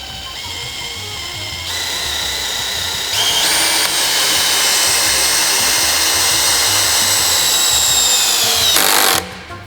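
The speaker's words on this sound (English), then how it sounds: "And then I screw it in." A power drill drives a screw into glued wood for an heirloom bench, a steady high whine that rises in pitch partway through, runs continuously for several seconds and cuts off sharply near the end.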